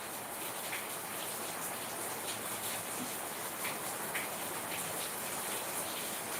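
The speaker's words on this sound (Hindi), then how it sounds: "अब बारिश भी है तो देखो का थोड़ा मोड़ा नहीं है, ज्यादा है।" Steady, dense rainfall pouring down continuously, a heavy downpour with scattered drips and splashes standing out, no voices.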